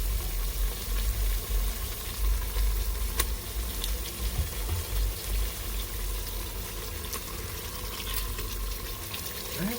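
Chicken pieces browning in hot oil for a coconut curried chicken, giving a soft, steady sizzle that runs quietly and unbroken throughout with no talking.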